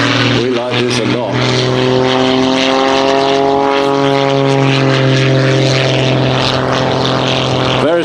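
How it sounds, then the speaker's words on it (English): A Pitts Special S2-S aerobatic biplane with a 260 hp Lycoming engine flies a display at the Farnborough International Air Show, its loud propeller drone rising and falling in pitch as power settings shift. "It's a Lycoming engine up the front, 260 horsepower available."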